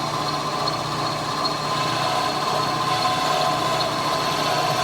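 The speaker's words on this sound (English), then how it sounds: "on machining the base with the mill that I call the shell arbor mill." A shell arbor mill machines a base for a Quorn tool grinder wheel head bracket, giving a steady close hum of motor and cutting with tonal whine overtones, unbroken and even throughout.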